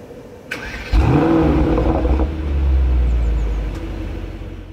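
A Mercedes-AMG GT63S saloon's V8 starts in Sport mode with a sharp crank and loud bark, then settles into a deep, rumbling idle with a slight swell in the middle, heard close up.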